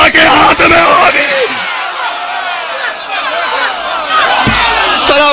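Large crowd loudly chanting a religious slogan in unison at a Ramzan majlis gathering, a dense roar of many voices that swells and holds, with a single voice leading over it.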